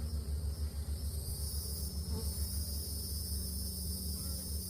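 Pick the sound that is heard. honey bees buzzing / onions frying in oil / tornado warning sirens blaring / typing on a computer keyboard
honey bees buzzing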